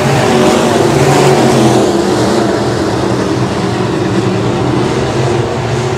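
USRA B-Modified race cars roar around the dirt oval at Rapid Speedway under a green flag, a loud, continuous blend of engines throughout with a steady pitch and no voices.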